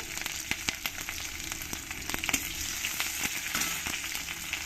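Garlic and green chilies fry in oil with radhuni spice, a dense close crackling sizzle with sharp pops scattered throughout and no talking.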